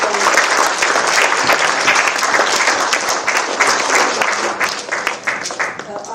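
A large conference audience gives a big round of applause at a valedictory session, loud dense clapping that stays strong before tapering off slightly near the end.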